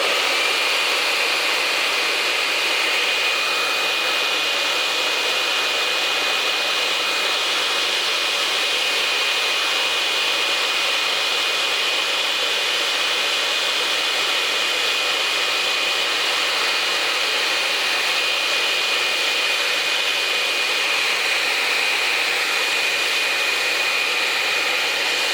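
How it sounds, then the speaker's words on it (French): A hair dryer blows hot air steadily to press tissue paper into a candle, giving a loud, constant whooshing roar with a fixed high whine running unbroken from start to finish. "on va venir tout simplement incruster le papier de soie à l'aide du sèche-cheveux"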